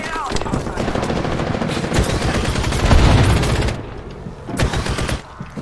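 A grenade explosion and heavy gunfire in a multiplayer shooter video game, with dense continuous rapid-fire bursts, a louder boom swelling in the middle, then more gunfire after a brief drop, alongside a voice.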